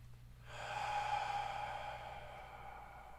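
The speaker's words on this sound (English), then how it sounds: "So I want you to take a deep breath in." A single slow, deep inhaled breath during a guided meditation, soft and airy, rising after a moment of quiet and sustained for a few seconds alone, close and faint over a low steady hum.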